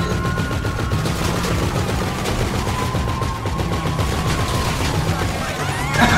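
Rapid gunfire bursts crackle repeatedly through an online Grand Theft Auto V shootout, a dense, continuous rattle of automatic weapons with voices talking under it.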